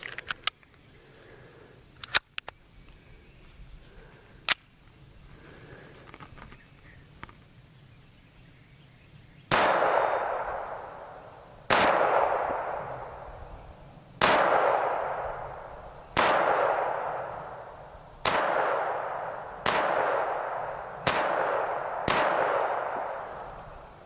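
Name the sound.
Walther P22 pistol firing Federal rounds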